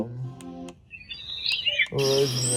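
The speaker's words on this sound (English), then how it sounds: "My favorite one is the birds." Birdsong setting on a bedside sound alarm clock: a short burst of electronic chirps and tweets sits between stretches of close talking, with a voice before and after it.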